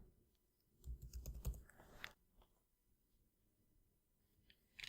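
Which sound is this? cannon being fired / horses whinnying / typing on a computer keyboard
typing on a computer keyboard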